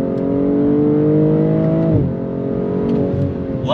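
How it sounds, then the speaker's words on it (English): A 2022 BMW M240i's exhaust roars as the car accelerates, a loud rising engine note that briefly drops at a gear change before climbing again, heard from inside the car. "Love the sound from the exhaust."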